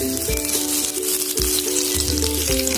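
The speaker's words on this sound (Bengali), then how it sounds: "পরিমাণ মতো সরষের তেল, 2টো তেজপাতা দিলাম" Two bay leaves crackle in hot mustard oil in a pan while a Bengali masala chicken is started, a steady close sizzle lasting a few seconds with no talk.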